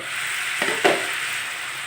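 Sliced potatoes for a simple potato fry sizzle steadily in a pan over a wood fire, a continuous close hiss broken by a couple of quick scrapes of stirring.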